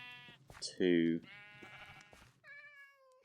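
Sheep bleating in the Minecraft modpack All The Mods 9, several short, clear nasal bleats sounding close, with a voice counting over and between them.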